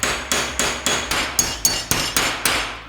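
Ten sharp hammer strikes on a nail at a steady, quick rhythm, each a bright metallic tap ringing briefly, loud and close with no talking.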